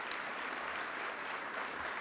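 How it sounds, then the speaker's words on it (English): A chapel audience at a college recognition of NCCAA champions gives another round of applause, a continuous, even roar of many hands clapping throughout. "let's give them one more round of applause."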